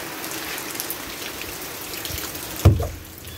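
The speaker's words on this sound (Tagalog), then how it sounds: "Bumuhos ang malakas na ulan." Constant hiss of rain pouring down, with a sudden louder thump or splash near the end.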